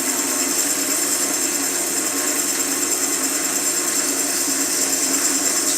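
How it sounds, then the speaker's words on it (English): A wooden spinning top turning on a woodturning lathe gets a light sanding. A steady, close hiss of abrasive against spinning wood holds constant and even throughout. "I'll just give it a light sand."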